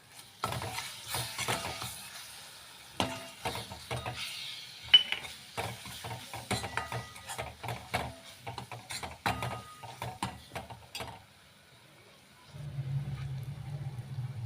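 Spices with ginger garlic paste frying in a pan for a brinjal and potato curry, stirred with repeated scraping and clinking strokes over a sizzling hiss; the stirring stops near the end, leaving a low steady rumble.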